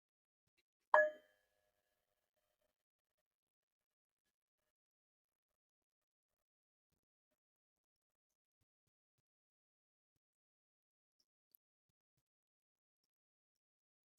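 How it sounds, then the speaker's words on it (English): A single meditation bell struck once, a clear bright ring that fades over about a second, followed by long near-silence with only a tiny faint tick later on. "I'll start with a bell"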